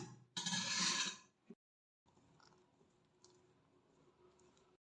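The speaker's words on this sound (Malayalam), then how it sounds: "ഇനി ഇതിലേക്ക് മാറ്റി വെച്ച കുറച്ച് കടലപ്പരിപ്പ് എല്ലാം കൂടി ഒന്ന് മിക്സ് ചെയ്തെടുക്കാം" Chana dal mixed by hand or spoon into a parippu vada batter of ground lentils and green chilli: a loud burst of rough scraping and squelching, a short knock, a pause, then quieter patchy stirring and scraping.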